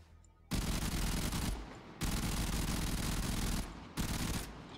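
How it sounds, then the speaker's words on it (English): Grakata rifle fire in Warframe, with long bursts of rapid automatic shots coming in three loud, dense stretches and short pauses between them. "It actually sounds like it's lagging for some reason when I fire."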